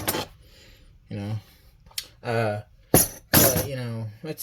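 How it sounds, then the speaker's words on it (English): A giant bolt cutter snips the end off a metal spoon, a few sharp, brief clicks and snaps set between stretches of someone talking close by. "I use a giant bolt cutter to cut these things off."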